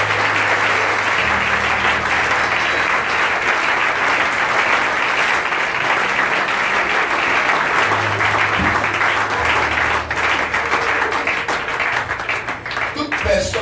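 Congregation applauding for Jesus at a revival crusade in Ekoumdoum, a steady dense wash of clapping and cheering that fills the whole stretch, with a low sustained tone running underneath.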